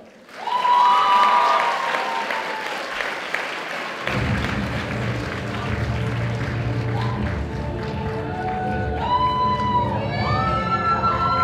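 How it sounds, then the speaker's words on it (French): A crowd at a cosplay contest applauds and cheers for a cosplayer dressed as an American Horror Story character. Loud clapping starts suddenly, and after a few seconds music comes in under the continuing applause. "je vous demande de l'applaudir très fort"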